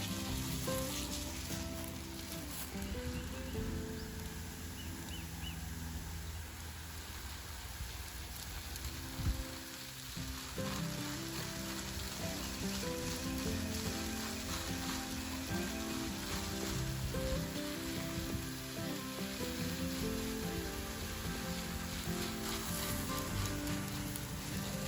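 A spray of water hisses steadily over farm plants, a broad continuous rain-like patter lasting the whole time with a faint tonal hum beneath.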